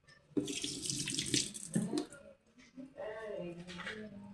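Hot water streams and splashes steadily into a cooking pot, pausing briefly midway before pouring again, close and fairly quiet.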